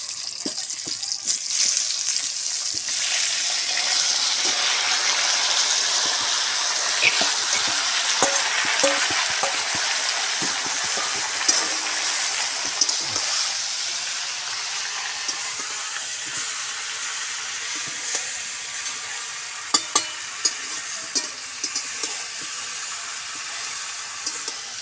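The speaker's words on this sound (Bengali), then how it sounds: "ভালো করে তেলে আমি উল্টে পাল্টে ভেজে দেবো।" Spinach chachchari frying in oil after bay leaf and five-spice tempering, a steady bright sizzle with scattered scraping and clicks as it is turned, slowly easing toward the end.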